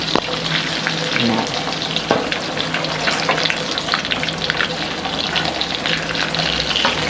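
Steady, dense sizzling and crackling of Thai fish cakes deep frying in hot oil and puffing up, continuous and close, with occasional light stirring clinks.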